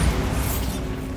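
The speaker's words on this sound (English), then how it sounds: "Bombarda." Bombarda explosion spell cast in Hogwarts Legacy: a loud, low booming burst at the start with crackling debris and a mechanical rumble trailing off over about a second.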